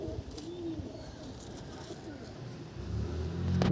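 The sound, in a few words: pigeons cooing in a loft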